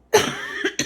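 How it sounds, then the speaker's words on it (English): A single hard cough from a person with a lingering cough, loud and close, followed by two shorter coughing bursts in quick succession. "Usually it's, like, 1 or 2 coughs and then, like, I'm good."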